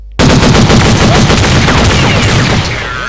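A machine gun fires one loud, sustained rapid burst of about three seconds in a PvP video game, close and dense, tailing off slightly at the end, with no talking over it.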